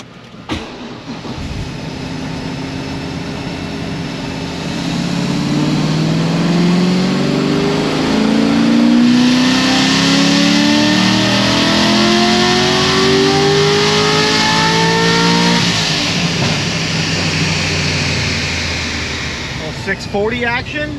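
A Chevrolet LS7 V8 car engine, rated at 640 horsepower and 549 torque, revs up in a long climbing run, the rising pitch sweeping upward and holding at a loud peak before easing off, with talk in the background.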